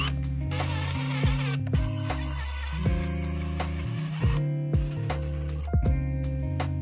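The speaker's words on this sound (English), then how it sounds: "So now we're going to be reaming these holes so that we can press a bearing in." Holes in a 3D printed part are reamed out to take a press-fit bearing, giving a steady close motor whine that shifts in pitch, with sharp clicks and knocks every second or so and no voices.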